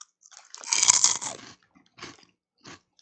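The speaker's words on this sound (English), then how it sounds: "That's a good crunch on the microphone." Loud, close crunching as corn soup flavor Turtle Chips are bitten, one big crunch followed by two shorter chewing crunches, with no talking.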